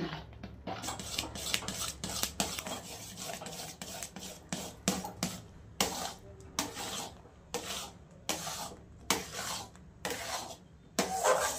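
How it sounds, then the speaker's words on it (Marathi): A spoon scrapes and rubs through a cashew and almond modak mixture in a pan on the stove, stirred in quick, repeated strokes with short pauses between bursts. "सतत हलवत राहायचं, नाही हलवलं का खाली चिटकतं लगेच।"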